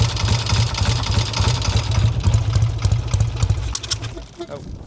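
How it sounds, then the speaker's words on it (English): Up close, a 1968 Triumph Bonneville T120R 650cc motorcycle engine ticks over at idle with a steady low throb, then stalls and cuts out after too much throttle, leaving brief quiet clatter. "Ticks over really easily as well."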